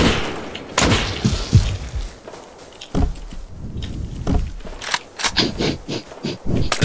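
Gunfire in the survival game Rust crackles as scattered sharp shots and thuds, some close and loud, others farther off, coming in irregular bursts with brief gaps in between.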